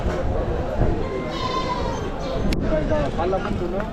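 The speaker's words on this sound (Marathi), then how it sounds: "शेळ्या आणि पाठी बोकड आलेले आहेत" Goats bleat at a large livestock market in Chakan, Maharashtra, several calls rising over a busy background of crowd chatter and movement, with people talking nearby throughout.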